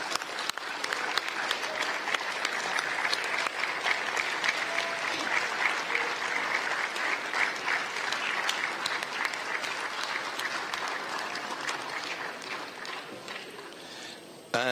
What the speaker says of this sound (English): a specific applause from all the Governing Council